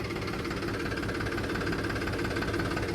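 A tractor engine fitted with monster tyres running hard at full throttle, a dense continuous roar with rough knocking vibration, close and loud throughout with no voices.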